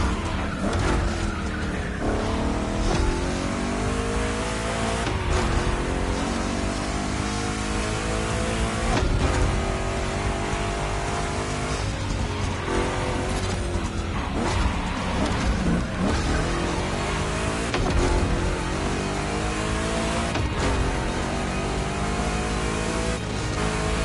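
Two Chevrolet big-block cars race in The Crew 2, engines roaring and revving loudly and continuously with gear changes, tire squeals and skids over a steady game soundtrack, no talk.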